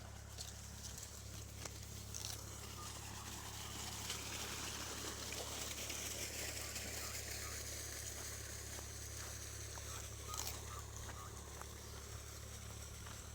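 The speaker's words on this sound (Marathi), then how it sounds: "म्हणून आता इथं पाणी चालू आहे." Water runs from a pipe onto an onion field, a steady broadband hiss and trickle that holds for the whole stretch over a constant low engine drone from a rotavator working nearby.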